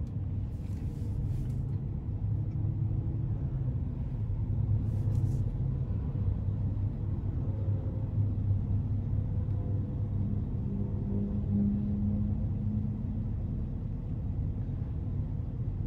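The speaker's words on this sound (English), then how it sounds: "And sitting here at idle, it's pretty quiet. I mean, I can hear the Vortec even over the AC" A GMC Savana 2500 conversion van's Vortec engine idles steadily with the air conditioning running, a constant low rumble and blower hiss inside the cabin, unbroken for the whole stretch with no talking.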